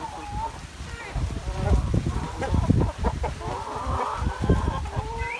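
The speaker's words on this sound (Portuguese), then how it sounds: "Galinha tudo alegre, ó." Chickens at a home yard cluck and cheep in a busy, continuous chorus, close by, with scattered pecking and rustling and no clear talk over them.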